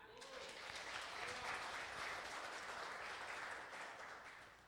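A congregation at a Brazilian church couples' course claps together in sustained applause for Jesus. The clapping is steady and fairly soft, swells, then fades slightly at the end.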